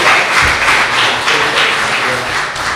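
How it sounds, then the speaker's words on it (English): A room applauds nominees at the CMA Broadcast Awards press conference in Nashville, a dense, loud, sustained patter of many hands clapping together with no voices. "Let's give them a round of applause."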